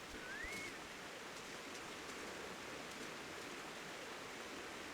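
Steady, full-band rushing of a waterfall in Final Fantasy XIV, continuous and even throughout with no gaps, loud and close, with a faint brief tone near the start.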